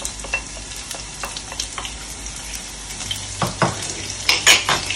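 Onions fry in a pan for a Filipino Ilonggo pork and jackfruit dish, with a steady sizzle under repeated clinking utensil scrapes and stirring knocks that grow busier toward the end.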